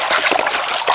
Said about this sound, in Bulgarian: миенето става с тия движения, въртеливите настрани, изсипва се калната вода и пак.